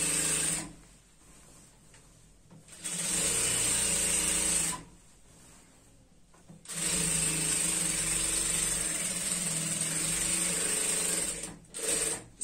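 A sewing machine stitches along the edge of a semi-Patiala salwar in two long steady runs separated by quieter pauses, with a high whine over the motor hum, close by and without any talk.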